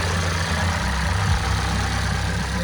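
Toyota Carina E engine running at a steady idle, a low continuous rumble close by with a constant even drone and no voices.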